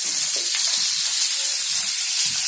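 Black pomfret fish frying in a pan, Karwar style, a continuous bright hiss and crackle of hot oil with a few faint low knocks, close and steady with no talking.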